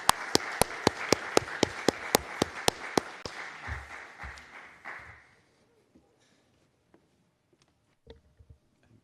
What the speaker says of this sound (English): Let's give a hearty round of applause for them.